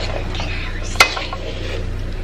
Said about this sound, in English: we can start stirring it so the chicken will get all the soy sauce